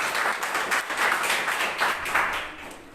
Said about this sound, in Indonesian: Tepuk tangan buat Tuhan Yesus.